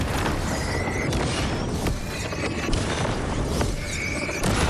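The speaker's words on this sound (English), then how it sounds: "Grenade." Grenade blast in the video game Alan Wake 2, a dense booming rumble sustained through a loud, busy game mix with several sharp swells.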